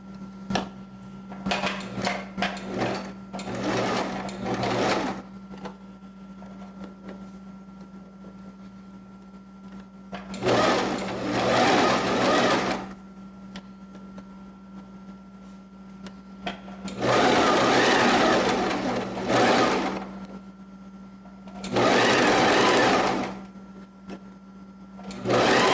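Sewing machine stitching fabric, turning at angles and curves around a V-neckline, runs in several loud bursts of a few seconds each with short pauses between, close up and with no talking.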